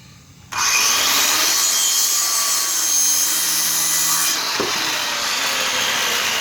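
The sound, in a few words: sawing wooden boards for a goat bench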